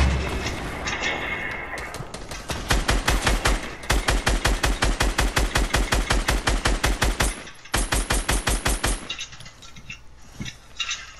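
Rapid automatic gunfire in the video game Fortnite, long loud bursts of evenly spaced shots with a short pause between strings, then tapering into scattered quieter shots.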